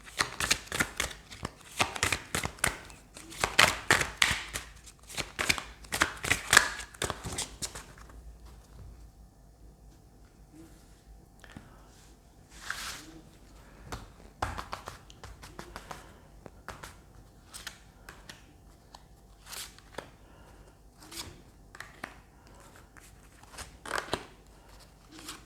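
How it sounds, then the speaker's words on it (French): Tarot cards are shuffled and then drawn during a reading: a stretch of quick, close riffling and flicking for several seconds, followed by sparse, quieter snaps and taps as cards are laid down. "on va aller tirer d'autres cartes pour voir si je peux vous donner votre message"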